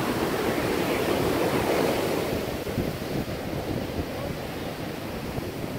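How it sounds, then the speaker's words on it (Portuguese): Ocean waves at Praia do Morro beach crash in a continuous, loud roar of surf, with broad rushing water and some wind buffeting the microphone, no voices. "Ouça o barulho das ondas."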